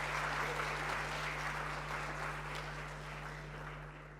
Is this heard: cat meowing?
no